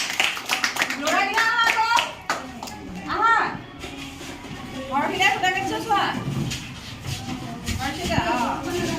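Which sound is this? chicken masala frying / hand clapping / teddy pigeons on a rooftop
hand clapping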